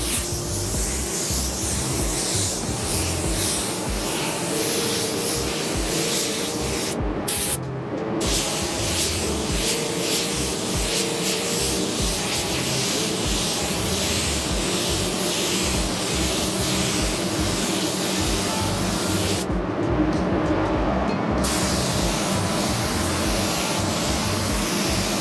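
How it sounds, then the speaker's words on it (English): A spray gun hisses continuously while laying a wet-on-wet base coat, a loud, steady spray broken by two brief pauses as the trigger releases. "that's two wet on wet coats of base coat laid down"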